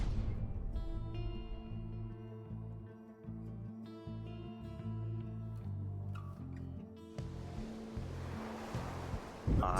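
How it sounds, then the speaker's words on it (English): Ocean waves wash continuously through the Pyre game arena by a boat, a steady surf layered under sustained game music tones, with a brighter rush of water swelling near the end; no talking. "I hear some waves."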